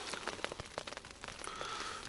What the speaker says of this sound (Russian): Еще дождь пошел.